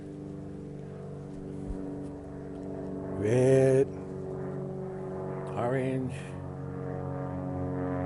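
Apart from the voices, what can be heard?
propeller airplane flying overhead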